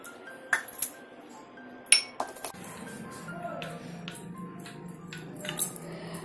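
A spoon clinks against a bowl a few times, then keeps scraping and swirling as custard powder is mixed into a paste with a little room-temperature milk. The stirring is soft and continuous, close by, with no talk.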